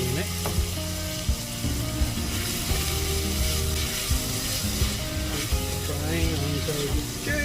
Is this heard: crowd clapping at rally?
no